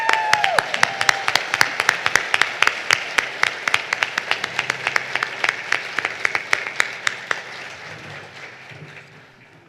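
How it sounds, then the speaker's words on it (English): An audience at a scholarship celebration luncheon breaks into a long burst of clapping and light cheering, sharp, dense and close at first, then slowly thinning and fading over about ten seconds. "Let's do one more cheer."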